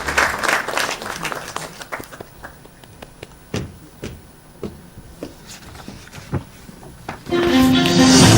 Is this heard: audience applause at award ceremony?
yes